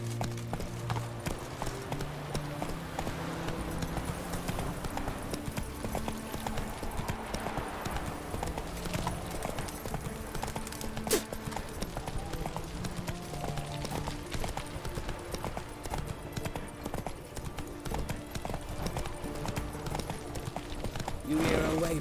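A horse gallops steadily in The Witcher 3, its fast hoofbeats drumming in an unbroken rhythm for the whole stretch under game ambience and music.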